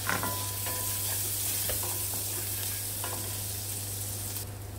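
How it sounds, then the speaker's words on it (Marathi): Garlic frying in butter in a hot kadhai for a quick pasta gives a steady close sizzle that runs throughout, with a few soft stirring knocks and no speech. "हेचें आतां गार्लीक घाता तें फ्राय कोता"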